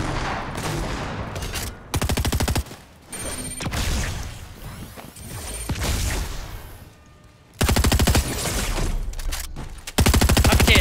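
Rapid bursts of heavy shotgun fire and other gunfire crack out in a Fortnite match, loud blasts clustered in several volleys with short gaps between them.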